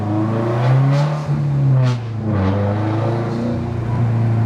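A car fitted with an FP Blue turbo accelerating on a base map, heard from inside as a loud, steady engine drone that climbs in pitch, dips briefly near the middle, then builds again.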